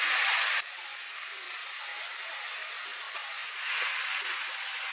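Two dried red chilies dropped into hot oil, with a bright burst of sizzling at first, then a steady close frying hiss that swells slightly toward the end.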